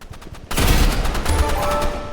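An RPG explodes in the Roblox video game, a sudden loud blast that breaks over faint clicking and then leaves a sustained roaring, crackling rumble, with no voices.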